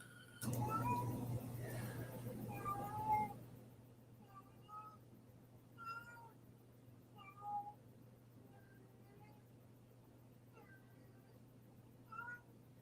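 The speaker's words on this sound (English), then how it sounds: "She's in heat, so she's running around the house meowing." A female cat in heat meows repeatedly around the house, several faint, drawn-out calls spaced a few seconds apart over a low background hum, with a burst of noise at the start.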